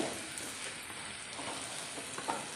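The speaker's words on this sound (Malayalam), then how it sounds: "നമ്മുടെ ഇഞ്ചിയും വെളുത്തുള്ളിയും പച്ചമുളകും എല്ലാം അതിനകത്ത് കൂടെ നന്നായിട്ട് മൂത്ത് വന്നിട്ടുണ്ട്" Bitter gourd with ginger, garlic and green chili sautéing in a pan for mango and bitter gourd pickle, a faint even hiss of frying with light stirring, no voices.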